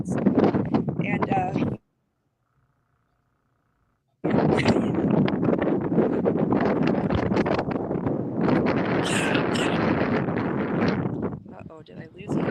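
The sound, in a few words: North Dakota wind blowing into the microphone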